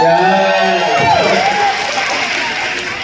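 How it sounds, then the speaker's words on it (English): Audience at a Honor Pad X8b launch event clapping and cheering, a dense steady wash of applause with whoops and a voice calling over it, gradually easing off. "So, give yourself a great round of applause."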